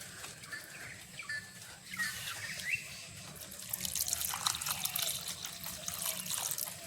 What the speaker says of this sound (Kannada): ಇವಾಗ ನಾನು ಇದಕ್ಕೆ ಬೇರೆ ನೀರು ಹಾಕಿ ಇಡ್ತೇನೆ